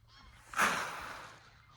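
A single goose honks once, a short nasal call fairly close by against a quiet background.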